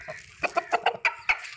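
Chickens, hens and a rooster gathering at feeding time, cluck in short, repeated bursts, several close calls in quick succession with a busy, slightly uneven rhythm.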